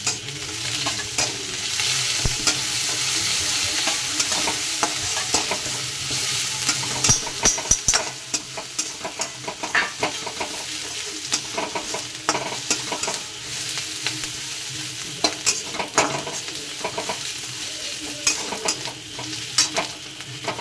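Chopped ginger, garlic and onion fry in hot oil while being stirred, a continuous close sizzle broken by frequent scraping and clicking strokes of the utensil that become sharper and more rhythmic toward the end.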